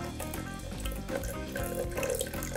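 Currant juice poured into a measuring jug, filling it toward the one-litre mark: a steady, continuous close-up liquid splash that runs without a break for the whole stretch, with no talking.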